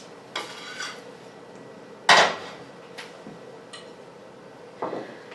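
Dishes and cutlery clink during plating of a zucchini frittata in a kitchen, with a few separate knocks and one sharp, louder clatter near the middle.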